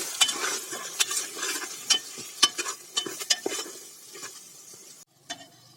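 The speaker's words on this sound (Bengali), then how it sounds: "সব মশলা দিয়ে ভালো মতো কষাবো" Spices for khichuri are sautéed in a pan: a spatula scrapes and taps in a steady rhythm over a low frying sizzle, close up, with a brief pause near the end before one more stroke.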